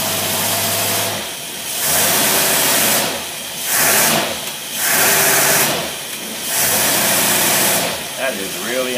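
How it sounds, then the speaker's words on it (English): Engine fitted with an Edelbrock 1404 500 cfm carburetor running on a dynamometer, revving up and down in repeated surges under load. "Now we're going to kick the dynamometer in, put a load on it."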